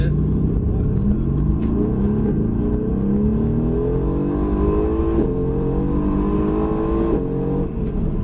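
Mercedes-AMG GT S engine revving and accelerating hard on a track at Mercedes-Benz World, a loud, steady roar with rising harmonic sweeps through several gear changes, heard from inside the car with occasional talk.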